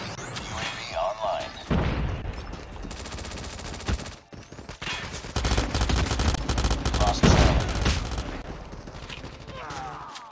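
Rapid automatic gunfire from the Pharo gun in COD Mobile, fast bursts of shots in a busy multiplayer match, with loud rattling stretches broken by a brief pause and game effects around them.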